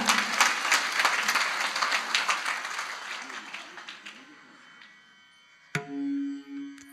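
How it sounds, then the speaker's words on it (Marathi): Loud applause from a gathered audience at a devotional kirtan event, cheering the children; dense clapping fills the first seconds and fades out gradually, followed by a brief sharp knock and a sustained tone near the end. "या लेकरांसाठी एकदा टाळ्या वाजवा जोरदार."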